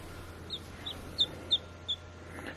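Gambel's quail in an enclosure give five short, high chirping calls spaced about a third of a second apart over a faint background hum, with no talking.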